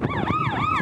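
A police car siren wails in rising and falling sweeps during a pursuit of a black sedan in Xindian, New Taipei. It is loud, close and continuous, with traffic noise underneath and no talk.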